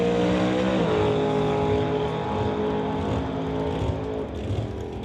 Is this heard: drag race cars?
yes